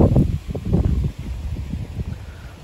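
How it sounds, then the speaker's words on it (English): Wind gusts through a garden of seed-grown dahlias outdoors, a steady rushing buffet with low rumbling bursts against the microphone, loud and continuous without any talking. "Really windy."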